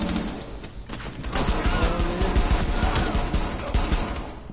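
Rapid gunfire from the video game Rainbow Six Siege, dense overlapping shots and bursts in a continuous fusillade lasting several seconds, loud and close.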